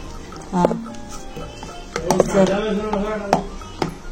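Onion, salt and hot green chillies being mixed in a bowl for an omelette: scattered clinks and scrapes of a utensil against the dish, with someone talking over the mixing.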